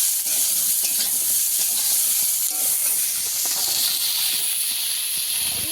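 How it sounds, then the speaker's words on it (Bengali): Mustard paste frying in a pan for a shol fish curry with drumsticks, giving a steady, loud sizzling hiss with light stirring scrapes throughout and no voices. "আমি ভালো করে একটু ভেজে নেব, যাতে করে এখন সরষেটা একটু মোটা হয়ে গেছে, সরষেটার গন্ধটা কেটে যায়"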